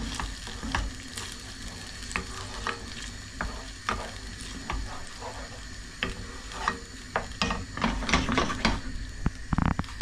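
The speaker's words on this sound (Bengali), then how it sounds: "মিক্স করে নিয়ে এটার মধ্যে আমি পাস্তাটা দেব, একটু 5 মিনিটের মতো এটাকে নেড়ে নেব" Pasta being stirred and mixed with sauce in a frying pan, producing a continuous close sizzle with frequent scraping and clattering strokes of the spoon against the pan, growing busier toward the end.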